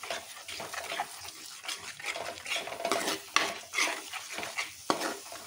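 Fish curry masala with sardine paste sizzles and fries in a pan while a spoon stirs it, giving steady crackling with intermittent scraping clicks, close and moderately quiet, no talking.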